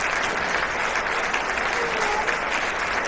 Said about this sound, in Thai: ผมปรบมือให้กับพี่เอช่างแอร์ด้วยครับ